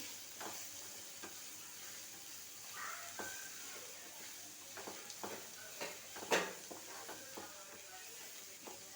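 Onions cook with salt in a pan of fish roe palya, giving a steady close sizzle with scattered stirring scrapes and taps, no voices.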